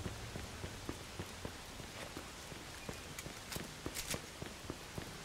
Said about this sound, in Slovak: Ale pekne prší